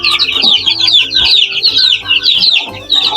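Young Kanawayan white streamer chickens cluck and chirp continuously at close range in a busy, overlapping chatter of high, rapid calls.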